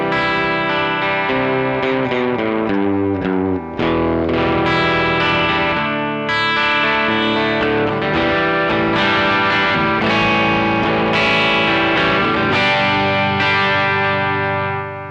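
An electric guitar runs through a distortion pedal with its volume knob rolled back for lower gain, playing a loud, steady riff of chords and single notes, crunchy but cleaner, for about fifteen seconds with no talking.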